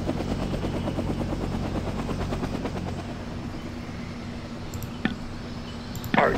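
A military helicopter flies in a Vietnam War video game, its steady rotor thump pulsing loudly for about three seconds before thinning out, followed by a couple of sharp clicks near the end.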